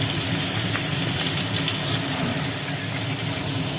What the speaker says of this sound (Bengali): ওইটারই চারটে টুকরো মাছগুলো ভাজা হচ্ছে